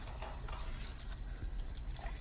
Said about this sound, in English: I'm going to cover all the leaves with water